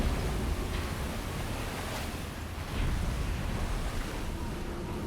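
In the Silent Hunter 4 submarine game, waves wash and splash over the USS Salmon's deck and sights: a continuous ocean surf rush with a gentle swell and small surges, with no talking.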